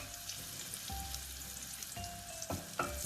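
Curry leaves crackle and sizzle in hot oil for a Chicken 65 dish, with a steady close frying hiss and a few sharper pops and spits.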